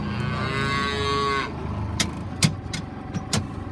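Cattle on a farm give a long, loud, close moo, followed by scattered knocks and a few sharp clanks nearby.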